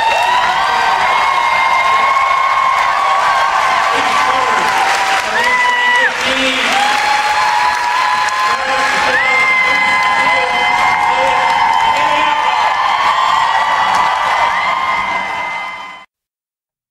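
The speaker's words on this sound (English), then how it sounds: "give a great big round of applause" A convention panel crowd bursts into loud, sustained applause mixed with cheering and whoops, with music playing over it before it cuts off abruptly.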